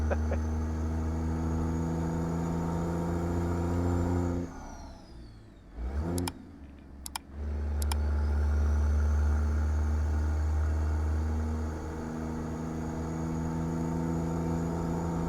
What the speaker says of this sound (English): Well, this engine doesn't seem to have too much power, that's for sure